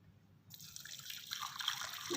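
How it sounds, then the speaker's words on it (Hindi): Water poured off boiled raw mangoes through a strainer starts abruptly and keeps up as a steady close splashing trickle that grows slightly louder. "पानी जो है वो स्ट्रेन करते हैं"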